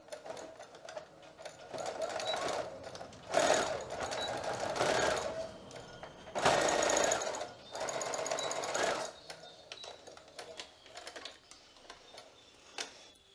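Sewing machine stitching fabric for an Easter food cover, backstitching to the end: loud rapid mechanical chatter in several bursts with short pauses between, close by, then quieter ticking near the end.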